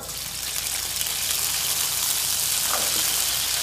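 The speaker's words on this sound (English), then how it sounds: "You can hear that. That's the sizzle." Loud, continuous sizzle of fresh garlic frying in hot sesame oil, a dense close-up hiss with faint crackles throughout.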